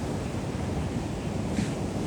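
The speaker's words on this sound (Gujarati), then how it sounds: "તમને દરિયાના મોજા તો સંભળાશે" Steady sea waves wash against the shore with gusting wind buffeting the microphone, a continuous loud roar with no voices.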